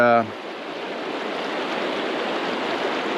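A river flows as a steady, broadband rushing wash, close and continuous, after a brief voice at the very start.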